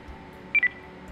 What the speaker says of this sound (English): Please wait for the tone and they will be connected.